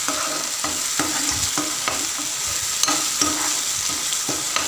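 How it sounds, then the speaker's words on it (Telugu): Tomato pulp and onion paste fry in a pan while a spoon stirs them, giving a steady sizzle with repeated scraping strokes at close range and no voices. "టమాటా పచ్చివాసన పోయేంత వరకు వేయించుకోవాలండి"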